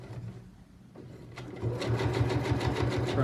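A sewing machine stitches a jeans hem, starting with a few slow stitches, then settling into a fast, rhythmic, close mechanical whirring and clatter that grows louder and continues steadily.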